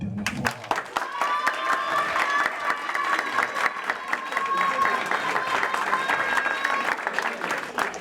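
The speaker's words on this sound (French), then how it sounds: "je pense qu'on peut s'applaudir une dernière fois" Audience applauding together at the close of an eloquence contest final, a dense, steady wash of clapping that holds at full strength for several seconds, with a few voices and cheers mixed in.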